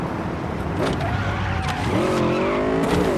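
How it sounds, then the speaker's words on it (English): A car in Cyberpunk 2077 pulls a handbrake turn, engine droning steadily while tires squeal and skid with rising, wavering pitch, loud and close throughout. "that's a properly executed handbrake turn"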